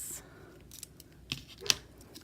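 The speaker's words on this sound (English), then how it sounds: "I'll just clip it open with scissors." Scissors cut open a package from a creative art subscription box, giving a few sharp snips separated by short pauses in a quiet room.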